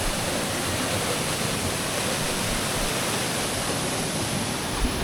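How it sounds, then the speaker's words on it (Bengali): Seven Sisters Waterfall in North Sikkim pours with heavy force down stepped rock ledges, a steady, dense roar of falling water that fills the whole span without a break. "এটা হচ্ছে সেভেন সিস্টার ওয়াটারফলস"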